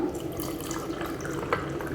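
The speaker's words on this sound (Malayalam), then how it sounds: "ഐസ് ക്യൂബ്സ് കൂടെ ഇട്ട് കൊടുത്തിട്ട് നമ്മുടെ നാരങ്ങ വെള്ളം ഇതിലേക്ക് ഒഴിച്ചു കൊടുക്കാം" Lime juice pours steadily over ice cubes, a continuous close splashing trickle with a small clink near the end.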